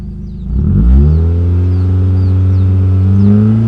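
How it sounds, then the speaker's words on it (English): A smoking car engine treated with an anti-smoke additive revs up from idle, climbing quickly to a loud, steady, elevated drone that holds for several seconds, up close and with no talk over it. "I'll go and give it a rev and we'll see what happens"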